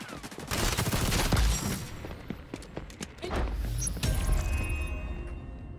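Gunfire from a gun in the video game XDefiant crackles in dense rapid bursts with booming impacts, loud and close, broken by brief lulls, no voices.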